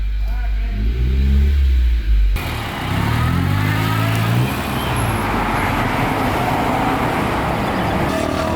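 Idling engine and exhaust of a Honda CRX Si, a running barn-find car, a steady close rumble with some roadway noise that continues after a person speaks briefly at the start.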